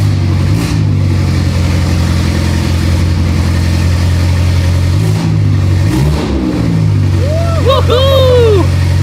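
A cheap BMW M5 competition car engine idles roughly and then revs hard, loud and close throughout, while an excited voice calls out over it toward the end.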